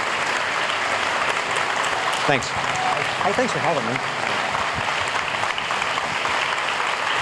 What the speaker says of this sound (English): Ladies and gentlemen, let's please give Dr. Dobbs a round of applause.